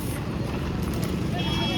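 Bullock carts racing at speed, hooves pounding in a steady rapid clip-clop beneath a constant loud roar of crowd and wind noise, with voices mixed in throughout.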